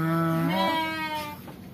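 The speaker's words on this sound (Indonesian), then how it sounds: "Dan ini domba Garutnya." A Garut sheep on a village farm in southern Cianjur gives a single loud, close bleat that wavers and rises partway through, then tails off into quiet.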